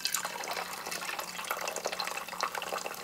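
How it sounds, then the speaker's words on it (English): Soda water pouring into a cocktail glass while a Tom Collins is mixed at a bar: a continuous bubbly splash and fizz, close and moderately loud, with small crackling droplets throughout. "Soda water. Pour a little bit in there."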